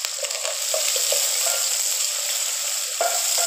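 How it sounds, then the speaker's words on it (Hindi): Chopped onions frying in hot oil for a beetroot and ground beef keema, a steady loud sizzle close up with light stirring clicks and scrapes. "सबसे पहले हम इसमें ऐड करेंगे प्याज"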